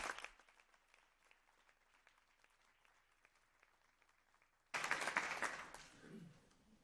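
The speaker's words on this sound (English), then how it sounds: "I think that deserves a round of applause for Sawa." An audience at a school board meeting applauds, starting as soft, distant scattered clapping and then swelling into a louder, fuller burst of applause before tapering off.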